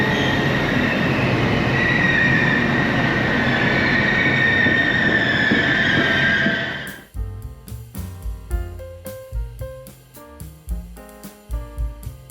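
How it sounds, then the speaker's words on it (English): A train pulling into a station in Leeds, first a loud sustained squeal of brakes and wheels, then a series of rhythmic clunks and knocks as the carriages roll slowly to a halt. "And this is my train just arriving now."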